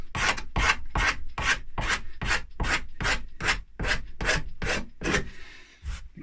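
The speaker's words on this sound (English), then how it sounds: "The cabinet scraper is very good for the edge down here too" A cabinet scraper drawn across the wood of an already-painted guitar body makes a dozen sharp, rhythmic rasping strokes, evenly spaced about half a second apart, close and crisp with no talk.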